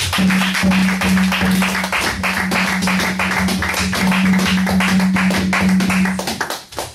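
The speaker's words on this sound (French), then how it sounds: "Applaudissons pour la gloire de Dieu" A church congregation claps together in dense, rhythmic applause at a Sunday worship service, loud and sustained for several seconds with a steady hum beneath before it trails off.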